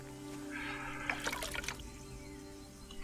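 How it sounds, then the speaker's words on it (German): Water splashes in the medieval game Kingdom Come Deliverance, a brief burst of faint splattering and trickling over a steady low background hum. "Ich höre plätschern."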